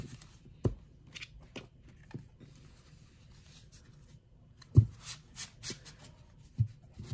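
Lucine Midnight & Twilight Edition indie-deck playing cards are shuffled overhand, gently, giving soft, sparse papery riffles and scattered taps, quiet and close with no talking.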